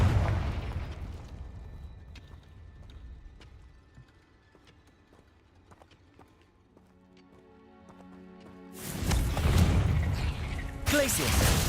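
A fiery blast spell from the Hogwarts Legacy video game erupts loudly near the end with a sharp explosive burst and brief roar, preceded by quiet ambient game sounds and an earlier rumbling impact.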